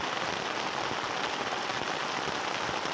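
Rain falling at a wild camp in the outdoors, a dense, even hiss of drops pattering on surfaces, steady and close with no pauses.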